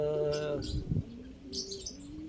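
Soft cooing of pigeons nearby inside an open building, a few low warbling calls with faint chirps and rustling in the background.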